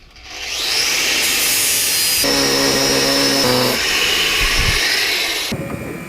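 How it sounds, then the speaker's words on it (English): Grinding down a metal bar for a lathe toolrest: a loud, steady, continuous abrasive rasp runs through nearly the whole stretch, with a brief lower-pitched tonal shift partway, and no talking. "I decided to grind the bar a little bit down to make it easier to bend."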